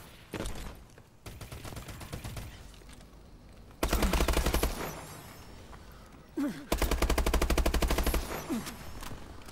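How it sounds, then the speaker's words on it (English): Bursts of automatic gunfire from the video game Call of Duty: Advanced Warfare come in two long sustained rattles separated by quieter gaps, with shorter shots and scattered in-game effects between them. "the rate of fire in this is like noticeably slow"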